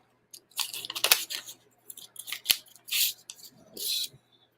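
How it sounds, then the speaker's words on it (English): Scissors cut open an envelope up close, giving a series of crisp paper snips and rustles in irregular bursts separated by short quiet gaps. "I know you enjoy watching the cutting of the envelope."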